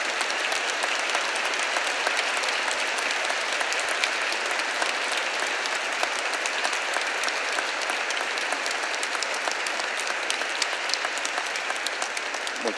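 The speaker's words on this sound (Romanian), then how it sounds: "vă rog să-i aplaudați, că au fost formidabile astăzi" Audience in a cathedral in Iași applauding the philharmonic orchestra after a charity vocal-symphonic concert; sustained, dense clapping fills the reverberant space at a constant loud level for the whole stretch.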